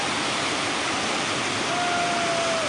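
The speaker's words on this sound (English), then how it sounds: "here is an amateur video showing the moment the dam was released in River Benue." Water released from Lagdo Dam rushes into the River Benue, a loud, steady, unbroken roar that fills the whole clip with no pauses or voices.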